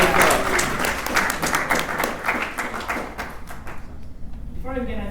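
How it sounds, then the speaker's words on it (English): Audience applause at the SpaceUp Atlanta space gathering, a crowd clapping steadily and fairly loudly before thinning out, with a voice starting to speak near the end. "First round of applause to everybody."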